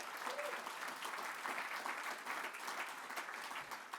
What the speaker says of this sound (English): Give Jonathan a round of applause if you would